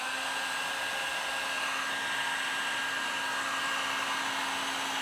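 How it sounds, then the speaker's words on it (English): A heat gun blows hot air onto heat shrink tubing over soldered LED pixels, a steady, even whooshing hum with a faint constant tone that runs unbroken throughout at moderate level and close, with no speech. "if you have a heat gun like this, you do also want to be careful that you're not completely dousing your pixels in heat. And it's going to get a little bit noisy"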